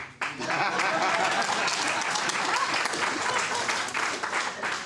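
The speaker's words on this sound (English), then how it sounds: "What the heck, I'm gonna clap for you." Applause rings out in a room at a Rotary Club luncheon, a dense burst of hand clapping that starts abruptly and stays full and steady for several seconds.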